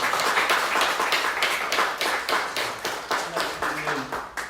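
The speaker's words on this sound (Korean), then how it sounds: "우리 박수 한번." Audience at a Sunday church service clapping in a rhythmic, pulsing beat, a few dozen hands striking together near and fairly loud, with faint tones entering toward the end.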